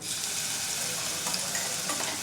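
Spice paste sizzling steadily as it hits hot oil in a kadai while making Khambhat-style pani puri flavoured chevdo, a continuous close frying hiss with faint stirring scrapes, no voices.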